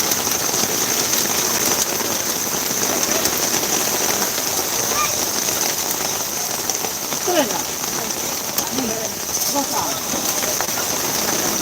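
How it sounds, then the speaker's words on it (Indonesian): Steady rain falls at an outdoor bull racing training field in Pamekasan, a constant hiss of drops on surfaces, while distant voices and faint crowd sounds rise beneath it at times. "Ternyata hujan guys"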